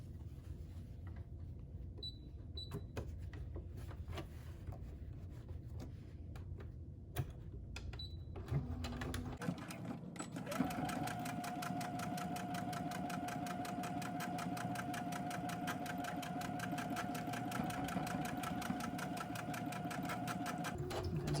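A sewing machine back stitches a children's cloth face mask, at first in short stop-start bursts, then running in one steady, even whir to the end, close by and alone.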